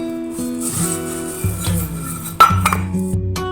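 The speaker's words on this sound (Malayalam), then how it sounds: "രാവിലത്തെ കുറച്ച് പാത്രങ്ങളൊക്കെ കഴുകാനുണ്ടായിരുന്നു." Dishes and pots being washed at home, with close clattering of metal vessels and clinks of glass and cutlery, including one sharp loud knock, and no talk.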